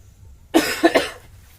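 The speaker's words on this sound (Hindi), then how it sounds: "थोड़ा ठंड लग गया है, खांसी है।" A single close cough, a harsh burst followed quickly by two shorter coughs, then quiet.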